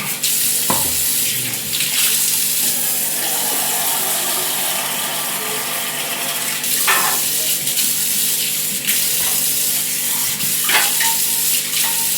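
About a quarter kilo of homemade butter melts on very low heat in a pan to make ghee, with a steady soft sizzle and frying hiss throughout, plus occasional light clinks and stirring sounds.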